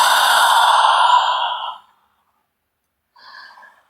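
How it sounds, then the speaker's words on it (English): A deep exhale through the mouth at the close of a beginners' yoga flow, one long breathy outflow that fades out after about two seconds, then a faint short breath follows. "Exhale deep through the mouth."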